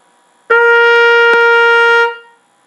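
A single sustained trumpet note played with an open "ah" vowel mouth shape, bright and steady, held for about a second and a half before fading out cleanly.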